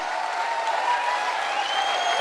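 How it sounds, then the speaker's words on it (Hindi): Audience clapping at an event, a steady, fairly loud burst of applause from a crowd lasting a couple of seconds with no voices over it. "जोरदार तालियां बजाइए"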